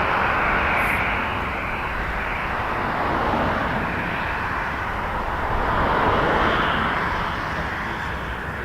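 A Sunwing Boeing 737-800 airliner takes off at Toronto Pearson, a broad, loud, steady jet roar that swells and eases slightly as it rolls, with no talk.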